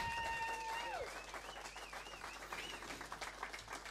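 A live studio audience claps at a comedy news show, moderate and steady throughout, with a whistling, warbling tone sliding over the start of the clapping.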